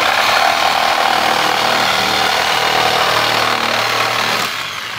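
A Graphite 58G971 reciprocating saw buzzes loudly and continuously through wood at close range, easing off slightly just before the end.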